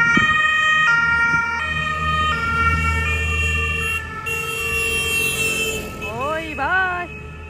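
A police vehicle siren wails loudly along a street cleared for a bicycle race, with steady layered tones that break into rapid sweeping yelps near the end over a background of traffic.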